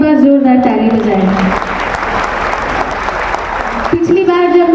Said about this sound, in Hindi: मैं चाहती हूँ इस संख्या के लिए आप लोग एक बार जोरदार ताली बजाएं।